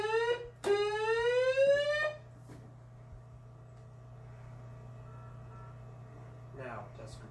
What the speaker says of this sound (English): the following is a test of the SAR alarm